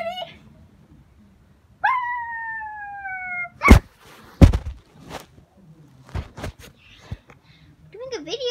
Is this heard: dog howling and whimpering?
yes